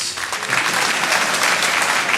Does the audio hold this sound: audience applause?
yes